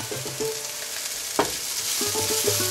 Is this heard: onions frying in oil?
yes